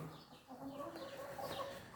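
Hens cluck softly and intermittently inside a closed-up poultry house, with a steady background hum and no talking.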